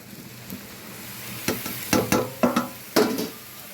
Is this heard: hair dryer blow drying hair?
no